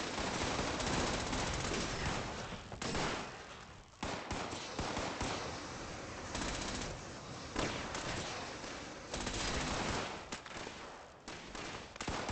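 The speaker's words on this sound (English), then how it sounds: "Aren't the fireworks grand?" Loud rapid bursts of explosions and crackling pops in a video game at the Whitesprings Bar, coming in dense rolling volleys with brief gaps between them.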